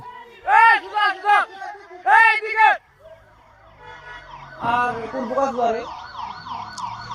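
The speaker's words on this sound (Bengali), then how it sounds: "ফায়ার সার্ভিসের গাড়ি এসে পড়ছে।" A fire service truck siren wails in two loud bursts as it approaches a market fire at Raiganj Bazaar in Nageshwari, followed by a lower, more distant wavering tone under voices and crowd noise.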